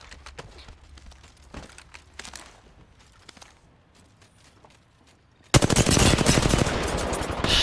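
R-301 rifle fire in Apex Legends arenas: a loud, sustained automatic burst that erupts after several seconds of sparse clicks and footsteps and keeps going to the end.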